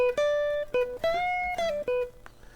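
Electric guitar plays the seventh measure of a guitar solo, a short, clear melodic phrase of sustained, bending single notes high on the neck, heard alone.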